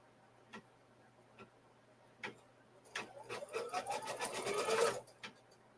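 An embroidery machine stitches a single 5x7 string quilt block, starting with a few sparse isolated ticks and building into a dense, rapid run of mechanical clicking and whirring that grows loud before stopping abruptly, with no talking.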